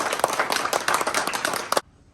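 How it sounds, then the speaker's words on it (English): A hall audience at an International Mount Everest Day declaration program in the New York State Assembly breaks into a dense round of applause, many hands clapping loudly and steadily before it cuts off abruptly into near silence. "Please give a round of applause."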